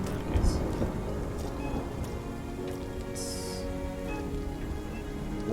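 A rainy village ambience plays steady rain pattering on surfaces, with low thunder rumbles and a few brief higher-pitched accents, forming a constant, fairly loud wash with no clear speech.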